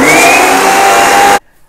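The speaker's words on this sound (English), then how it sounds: "I switched over to the food processor after the almonds and coconut flakes have become larger" A food processor grinds almonds and coconut flakes with a loud, steady whirring roar that runs for over a second and then cuts off abruptly into silence.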